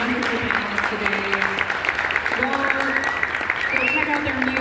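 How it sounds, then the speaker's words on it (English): An audience claps for a panel of folk musicians, a sustained, even round of applause that holds steady for several seconds, with some voices mixed in. "I want to give a nice big round of applause for all of our wonderful panelists today."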